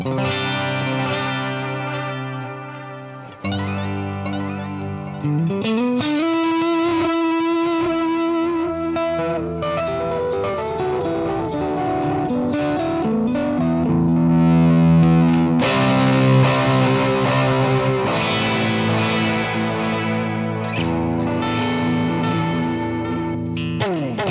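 Distorted electric guitar through a Hughes & Kettner Replex tape echo, warbling repeats trailing behind sustained notes and chords, played continuously and loud, no voices.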